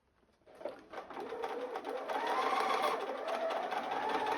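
A sewing machine stitches curved quilt pieces, a steady mechanical whir that starts after a brief pause and runs continuously at close range, rising slightly and holding level with no talking.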